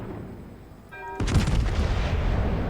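The main guns of the French battleship Jean Bart fire in World of Warships: a short tonal chime, then a sudden heavy booming salvo that rolls on loudly to the end.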